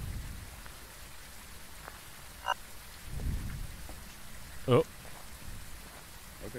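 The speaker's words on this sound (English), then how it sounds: "It's raining so fucking loud." Heavy rain pours steadily in the horror game Phasmophobia, a dense constant hiss with low rumbles like distant thunder, while players' voices briefly break in over it.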